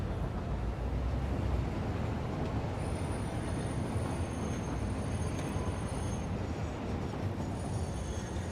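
Train from the video game Satisfactory rolling along, a steady, loud low rumble with continuous rail noise throughout and no talk.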